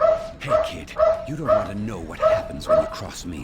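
Dogs barking and yipping in Persona 5 Royal, a run of short, sharp barks in a quick rhythm, loud and close, mixed under someone speaking gruffly.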